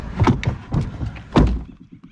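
A DECKED drawer in the truck bed of a 2017 Toyota Tacoma slides open with a series of hollow thunks and rolling rumbles, ending in a heavier knock, close and loud.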